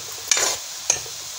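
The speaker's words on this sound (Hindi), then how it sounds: "इसको हम सब तरफ से अच्छे से चलाते रहेंगे।" Onions stirred as they fry in a pan for mutton korma: a steady sizzle broken by two sharp spatula scrapes, close and fairly quiet, with no talking.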